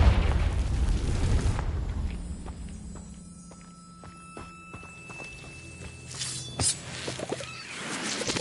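A Confringo fire spell explosion in Hogwarts Legacy opens with a loud, booming burst that fades into a rumbling tail, followed by quieter clicks and a few softer pops later.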